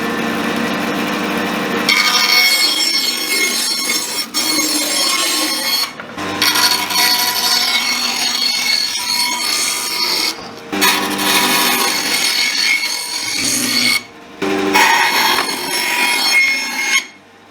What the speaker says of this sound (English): just run this through the bandsaw and just take off this edge where the screw holes are